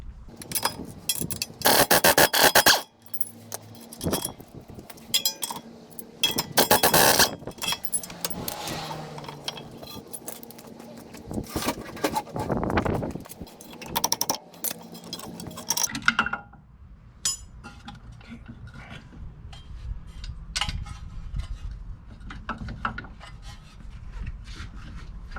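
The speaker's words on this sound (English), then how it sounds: "I'm going to be removing these two bolts that bolt the spindle to the strut" Bolts are worked loose where a car spindle meets the strut, with metallic clinks, rattles and ratcheting scrapes up close in uneven bursts, settling into quieter tapping near the end.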